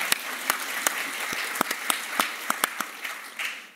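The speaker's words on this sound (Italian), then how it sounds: "prima c'era un applauso partito? Continuatelo." Sparse, timid applause from a national medical congress audience, a thin bed of clapping with a dozen distinct louder claps popping out irregularly, fairly quiet overall and without talk.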